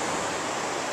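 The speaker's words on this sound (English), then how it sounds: "we're on the beach, filming waves" Ocean surf on the beach at Torquay, at the start of the Great Ocean Road, gives a steady, full rushing wash of breaking waves with no voices over it.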